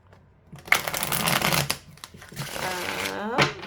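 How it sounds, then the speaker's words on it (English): Tarot cards shuffled by hand with long nails, a dense papery riffling and slapping that runs in bursts with brief pauses between them. "sorry if I'm a little slower with shuffling. I'm not used to having nails when I shuffle"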